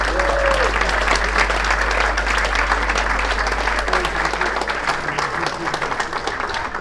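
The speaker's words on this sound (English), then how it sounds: "Please give yourself a very big round of applause for Ranjeet Brar." Dinner audience at a curry night with speeches giving a big round of applause, sustained crowd clapping with a low hum underneath, gradually thinning toward the end.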